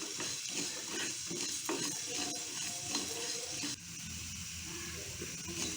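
Urad dal, chana dal and rice are dry roasted in a pan, giving a quiet, continuous scraping and rustling as the grains are stirred, with faint pan clinks.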